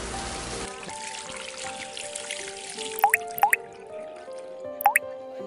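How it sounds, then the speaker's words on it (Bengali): Water drips from a leaking roof in a cartoon, a few separate, bright plinks standing out over a soft, steady background hum. "ছাদ থেকে পানি পড়তেছে"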